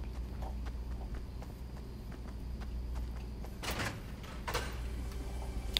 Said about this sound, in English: I just heard footsteps.